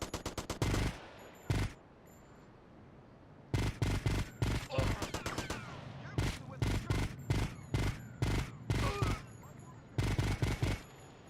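Gunfire in the game GTA Vice City Stories, loud bursts of rapid shots separated by short pauses, repeating in several clusters over about eleven seconds.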